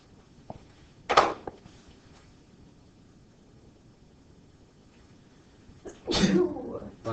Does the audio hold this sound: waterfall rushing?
no